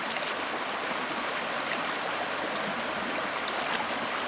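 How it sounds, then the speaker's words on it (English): Steady rushing water of a waterfall in Denali roars continuously at moderate loudness, a dense even hiss like falling water, with no voices. "That is a pretty waterfall over there."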